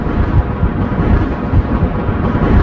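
Thunder striking during a lightning storm in the Minecraft video game: a loud, dense, continuous rumbling roar with no pauses, heavy in the low end and without any speech.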